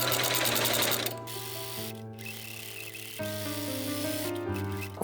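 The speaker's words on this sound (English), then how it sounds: "I am sewing the two outer fabric and lining together along the seams" A sewing machine runs steadily for about five seconds, stitching the outer fabric and lining of a budget DIY corset together along the seams, with a couple of brief pitch changes as the speed shifts.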